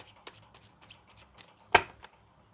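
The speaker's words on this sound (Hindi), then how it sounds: "And this is my last shuffle." Tarot cards being shuffled by hand, a few soft riffling flicks and taps with one sharper snap of cards near the end, close and quiet with no talking.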